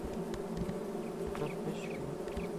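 Bees in the video game Farming Simulator 22 buzz continuously in a dense, steady drone, close and fairly loud, with a few higher buzzing passes drifting in and out.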